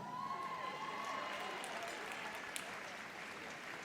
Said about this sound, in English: Big round of applause for the first of our little Tibetan breeds.